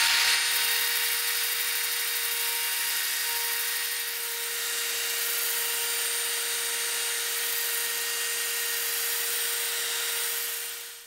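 Handheld drill spinning a 120-grit sanding disc across a walnut board, a steady high whirring hum with a constant pitch that holds for the whole stretch and cuts off at the end.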